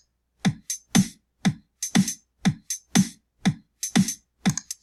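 A programmed drum loop built in Soundtrap plays an even pattern of sharp snare hits and crisp closed hi-hat ticks, about two strikes per second, clean and alone with nothing between the hits.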